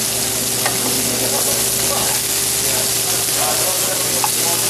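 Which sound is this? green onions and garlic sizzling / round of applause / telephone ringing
green onions and garlic sizzling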